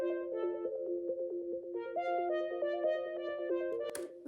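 A harlequin synth layer enters a beginner's pop instrumental, its bright stacked tones playing a repeating melodic pattern over sustained lower synth notes, steady and clear with no voices.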